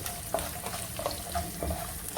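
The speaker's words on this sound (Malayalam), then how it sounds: "ഇത് ഒത്തിരി മൊരിയണ്ട ഈ വെളുത്തുള്ളി" Garlic sautéing in a pan, a soft steady sizzle with a few light stirring taps and scrapes at close range.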